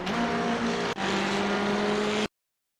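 A McLaren 570S GT4 racing car engine in the iRacing video game roars at high revs under full throttle on a Chicago street track, briefly dipping with a gear change, then cutting off abruptly into silence.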